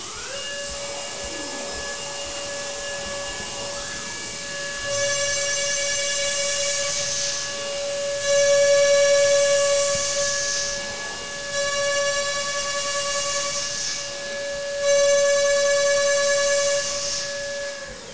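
A DATRON CNC machine runs an automatic tool change, with a steady mechanical whine and hiss that swells into several louder tonal pulses, repeating through the clip, loud and close, with no voices.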